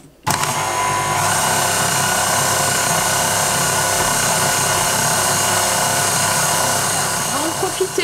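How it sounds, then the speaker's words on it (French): Meat grinder attachment fitted to a kitchen mixer's arm, mincing meat with a loud, steady motor whine that starts abruptly and runs throughout, with a voice speaking over it. "c'est un hachoir qu'on vient fixer sur le bras du kitchen"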